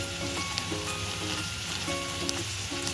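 Tomatoes with ginger paste and green chili paste frying in a pan for a rui fish curry, a steady close sizzle crackling throughout with light scraping and tonal hum underneath.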